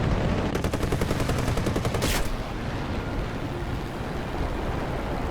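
Machine gun fire from a P-26 Peashooter in the War Thunder flight game: a rapid, even burst of shots lasting about two seconds over a constant engine and wind roar, which continues alone after the firing stops.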